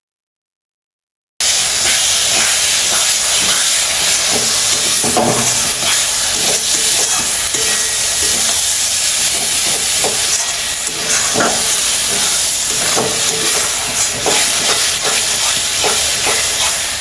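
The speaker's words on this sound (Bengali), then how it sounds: "আমি 10 মিনিট মতো মশলাটা কষে নিলাম।" Spices with turmeric and salt sauté for mutton curry in a kadai, giving a loud, steady sizzle and hiss close by, with scattered scraping stirs over the bubbling oil and no talking.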